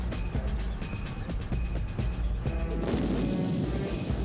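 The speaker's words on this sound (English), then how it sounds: "The artillery system 10 miles or more behind them is instructed to fire its Copperhead round into the approximate vicinity of the target." Artillery fire, a military field gun launching a Copperhead guided round, comes as a rapid series of sharp booming blasts followed by a rumbling roar, moderately loud and with no talk over it.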